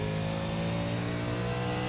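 A loud race car engine from the iRacing sim game holds a high, steady roar, revving continuously with a buzzing, synthetic tone and no voices.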